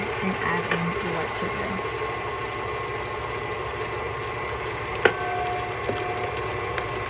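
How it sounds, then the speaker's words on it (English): A KitchenAid stand mixer whips egg whites at high speed, giving a steady, continuous mechanical whir that holds at an even level for the whole stretch, with a couple of faint clinks near the end. "While the mixer is mixing the egg whites, you want to put the speed up to 3 to 4 on the KitchenAid"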